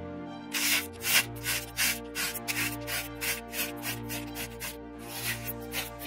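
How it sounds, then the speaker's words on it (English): A blade shaving hair off a head: close, rhythmic scraping strokes repeating steadily, each a short rasp, with no talking. "He started shaving off hair right from middle and from back to front."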